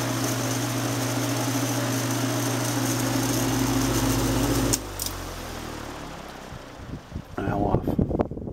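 An early 1940s 20-inch Fresh'nd Aire electric fan runs on high speed with a steady droning motor hum and airy whoosh. The hum cuts out suddenly partway through, followed by scattered handling knocks and rustles.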